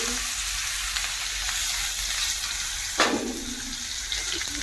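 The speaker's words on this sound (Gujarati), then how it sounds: "અને હવે એમાં નાખી દઈશું આપણે જે ડુંગળી સમારેલી છે એ." Chopped onions frying in hot oil with cumin, mustard seeds and hing give a steady, close sizzling hiss, with a brief louder crackle about midway.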